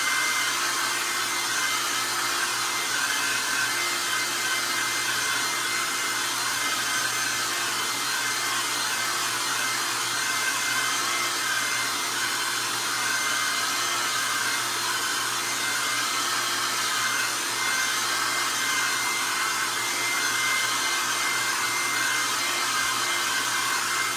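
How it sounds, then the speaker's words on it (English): A hair dryer blows steadily on wet paint, a constant close whooshing roar with a motor whine that holds unchanged for the whole stretch, with no talk. "I'm just going to hit it with a hair dryer to get that process going"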